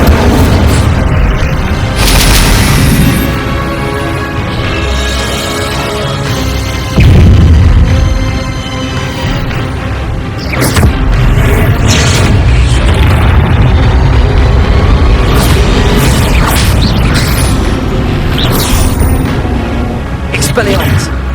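Incendio fire spells cast in Hogwarts Legacy sound as loud booming bursts, repeated through a dense, continuous mix of game action, with voices talking throughout.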